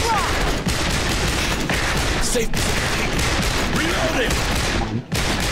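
Pistol gunfire in the video game Aliens: Dark Descent, dense and continuous, with shots blurring into a steady loud barrage and a brief dip near the end.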